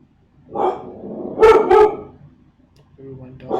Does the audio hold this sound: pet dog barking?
yes